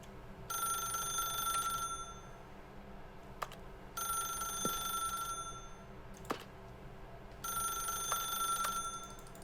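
A telephone rings in The Stanley Parable video game, three long bright electronic trilling bursts separated by pauses, steady and clear with a few sharp clicks between rings and no talking.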